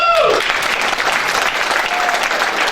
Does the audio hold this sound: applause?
yes